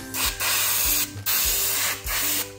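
Spray gun bursts applying body shade paint to a clay bull idol for Bail Pola, three long hissing sprays with short pauses between, each steady and close, a low mechanical pulse beneath.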